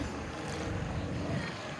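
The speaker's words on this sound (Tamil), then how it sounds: "25 கோஸ் பவர் இன்ஜினை கொண்ட படகுகளுக்கான படகோட்ட போட்டி" Racing boats with 25-horsepower engines at a boat race on the sea make a steady, broad roar mixed with rushing wind and water noise, fairly loud throughout.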